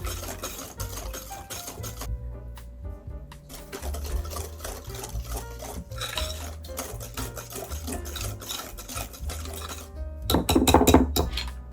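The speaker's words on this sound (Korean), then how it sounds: "계란 두 개를 한 번에 다 넣지 말고 세 번에 나눠서 섞어 줄게요" Eggs are being mixed into creamed butter and sugar in a bowl for an apple pound cake, giving a steady rhythmic mixing clatter with light clinks, set against soft background music.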